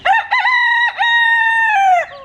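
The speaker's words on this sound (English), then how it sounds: "We have too many roosters." A rooster on a backyard farm crows loudly and close up in one long, drawn-out cock-a-doodle-doo, preceded by brief clucking notes, with no other sounds around it.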